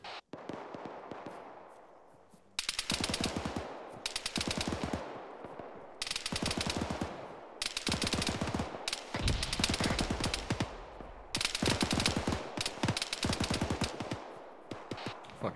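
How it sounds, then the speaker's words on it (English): A SAW machine gun fires long, rapid bursts of rounds during a field training exercise, loud and close, with sustained rattling strings of shots separated by short pauses and echoing tails. "what that fucking saw gunner to our north is engaging in, but he is fucking ripping rounds down to the south"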